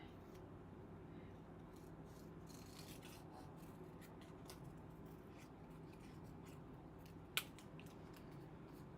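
Scissors snip through a piece of craft material close by, soft repeated cutting strokes over a faint background hum, with one sharp click near the end.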